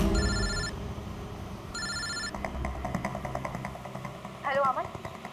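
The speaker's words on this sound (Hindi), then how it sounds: "मैंने अमन को फोन किया।" A telephone ringing on an outgoing call, two bursts of electronic ringback tone followed by fainter chirping tones, with a low engine-like hum and background noise beneath.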